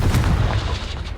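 Confringo blasting spell detonating in Hogwarts Legacy, a loud, continuous rumbling barrage of booming blasts with heavy low-end weight, sustained through the whole moment with no speech.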